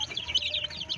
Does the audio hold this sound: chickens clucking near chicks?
yes